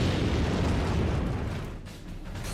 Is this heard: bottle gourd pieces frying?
no